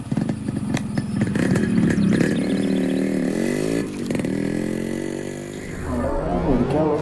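A motorcycle engine revs and clatters close by, its pitch rising and falling through several throttle blips before settling into a steadier idle and then revving again.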